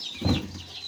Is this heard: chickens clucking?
yes